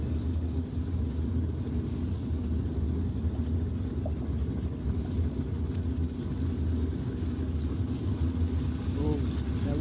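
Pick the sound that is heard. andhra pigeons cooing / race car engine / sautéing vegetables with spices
race car engine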